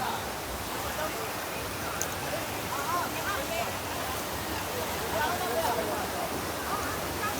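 Jonha Falls waterfall near Ranchi, a steady broadband rush of falling water that fills the scene, loud and continuous with faint voices in the background.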